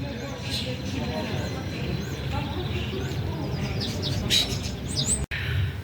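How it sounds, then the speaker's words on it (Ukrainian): Small birds chirp and tweet faintly in the distance over a steady outdoor background, with murmured voices in the mix. "я слухаю, як співають пташки"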